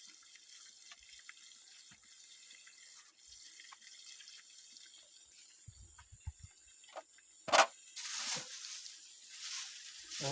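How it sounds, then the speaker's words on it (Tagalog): Water flows through the overflow of a fishpond outdoors as a steady, fairly quiet rush, with a few louder splashes and gushes near the end. "Malakas ang tubig mga idol."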